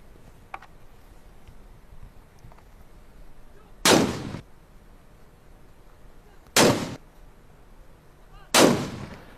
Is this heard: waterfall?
no